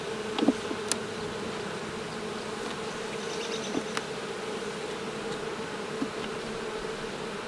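Honey bees buzz steadily around a hive, a soft continuous drone with a few louder passes and faint clicks.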